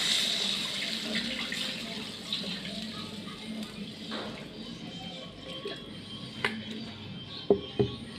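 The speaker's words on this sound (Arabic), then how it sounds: "هنزل عليها بالميه." Water poured into a pot of chicken sautéed with onion, mastic and cardamom, a soft continuous splashing and hiss with a few clinks near the end.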